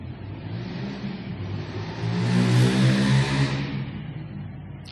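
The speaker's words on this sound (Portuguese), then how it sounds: "esperando as motos passarem" Motorcycles pass on a street, a broad engine roar swelling to a loud peak near the middle and then fading, with steady traffic noise throughout and no talking.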